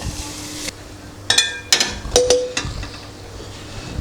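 Metal spoon scraping and clanking against a pan while grated coconut fries in ghee, a few sharp irregular stirring knocks over a low background sizzle.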